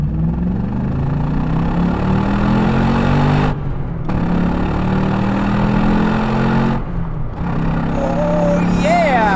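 A Chevrolet Corvette ZR1 V8 revs loudly through an acceleration run, a steady, close engine roar with two brief lift-off gaps between pulls and a rising whine near the end.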